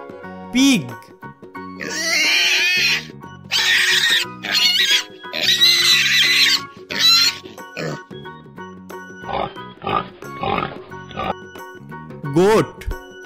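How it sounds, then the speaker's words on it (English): A pig oinks and grunts in a series of short, close bursts, some longer and some clipped, over a steady tinkly music bed. "Pig."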